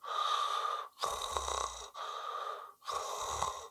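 A voice imitates light snoring to teach the French 'r' sound, making four soft, breathy rasping pushes separated by short silent pauses, close and quiet.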